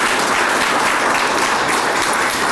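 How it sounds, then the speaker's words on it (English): Audience applause at a Vietnam veterans pinning ceremony, a dense, steady wash of many hands clapping that fills the whole stretch at an even, loud level with no voices over it. "Let's give them all a big round of applause."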